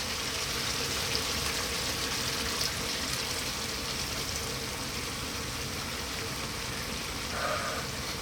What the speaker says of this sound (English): we're gonna add some cold water